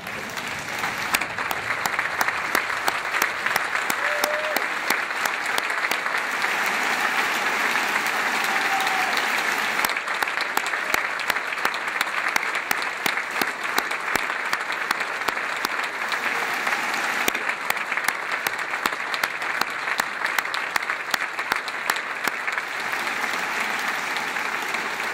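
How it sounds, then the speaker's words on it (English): A standing ovation for Sheriff Mike Hennessy at a San Francisco sheriff's inaugural ceremony, loud dense applause from a large crowd sustained for about twenty-five seconds, with no speech over it. "if we all stand in applause of Sheriff Mike Hennessy"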